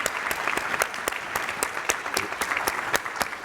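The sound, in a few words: audience applause for conference speakers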